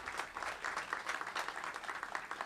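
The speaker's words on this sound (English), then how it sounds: "Yes, we can clap for that investment." Applause from a crowd at a library ribbon-cutting ceremony, dense and even clapping heard from a little distance and fairly soft, holding steady for a couple of seconds without voices.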